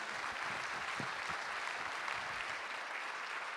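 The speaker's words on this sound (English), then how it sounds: "Vous pouvez les applaudir" Sustained applause from an audience at a conference opening, a steady dense wash of clapping that stays even and moderately loud throughout with no voices over it.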